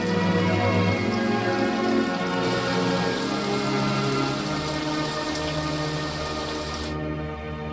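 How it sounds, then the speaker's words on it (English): Heavy rain pours down in a dense, steady hiss of drops on surfaces, loud and continuous, easing slightly toward the end before cutting off abruptly. "It appears that the rain is a worldwide phenomenon, dousing the fires"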